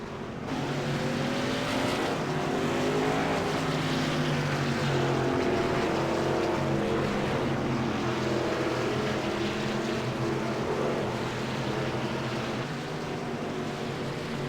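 Racing trucks in a video game league at Chicagoland roll around the pace lap, a steady, loud, continuous engine drone that holds for the whole stretch with no break.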